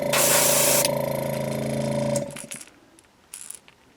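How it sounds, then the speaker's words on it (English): An airbrush sprays transparent orange paint onto a copper perch fishing lure, starting with a loud, steady hiss for about two seconds, then tapering off into softer bursts and brief clicks. "I'm probably going to spend more time spraying on the bill than I actually am on the lure"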